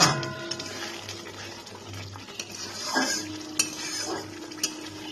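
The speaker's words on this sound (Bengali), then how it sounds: "দিয়ে এবার মশলাটাকে আমি ভালো করে আবার কষিয়ে নিচ্ছি।" Spice masala stirred and fried in oil for a potato and cauliflower curry, a low sizzle under repeated scraping and clinking of a spoon against the pan, no talk.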